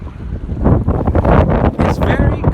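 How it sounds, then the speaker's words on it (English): Strong outdoor wind buffeting a microphone, producing loud irregular rumbling gusts and thuds that rise and fall continuously, with faint voice traces underneath. "It's very windy."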